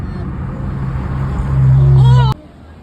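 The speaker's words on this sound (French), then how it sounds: "il y a une Ferrari qui est en train de se garer" A Ferrari parking nearby gives a low, steady engine rumble that swells slightly and then cuts off abruptly, with voices murmuring in the background.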